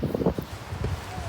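Strong wind gusts buffet the microphone outdoors in an open field, rumbling in bursts with a faint rustle between them and brief voices mixed in.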